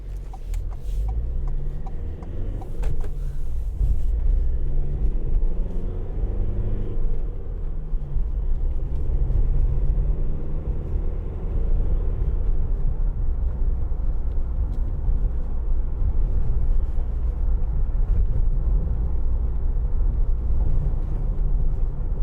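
A 2019 Ford Transit Custom 300 van with a 2.0 EcoBlue diesel drives over a bumpy road, its low engine and tyre rumble steady throughout, with brief knocks and clatters from the uneven surface early on.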